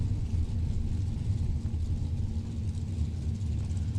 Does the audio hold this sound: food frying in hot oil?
no